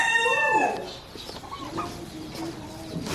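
Chickens at a pumpkin farm cluck and call close by, beginning with a drawn-out crowing-like cry, then softer scattered clucks over faint outdoor background noise.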